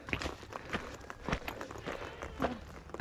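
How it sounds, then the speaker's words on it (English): A herd of goats moves across a steep rocky hillside with loose stones, irregular hoof clatters and scuffs on rock at close range, with no talk. "Whole bunch of goats."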